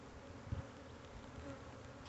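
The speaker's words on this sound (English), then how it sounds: "There's plenty of bees." Honey bees buzz in a soft, steady drone, faint and continuous, with no voices, during early-March hive splitting.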